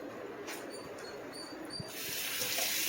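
A cleaning cloth is rinsed in water in a kitchen, giving soft splashing and swishing that stays quiet, then becomes a steadier, louder wash of running water near the end.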